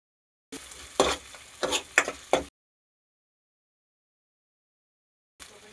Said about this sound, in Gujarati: આપણે મિક્સ કરી નાખશું આ રીતે.